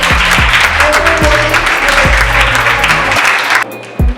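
An audience of students applauds a visiting guest at a school career day with loud, dense clapping that cuts off abruptly near the end, with a few low thumps mixed in.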